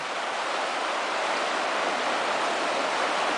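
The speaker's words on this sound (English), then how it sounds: "as you can see, the rapids are quite impressive" Rushing creek rapids pour over rocks at a wide creek crossing, a loud, steady broadband roar of churning water filling the whole stretch with no pauses and no voices.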